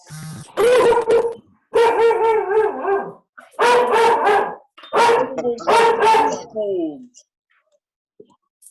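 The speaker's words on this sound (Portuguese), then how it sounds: "O cachorro do Fred." A dog belonging to Fred barks in several loud, close bursts of repeated woofs separated by short pauses, with a whining, howl-like tail at the end.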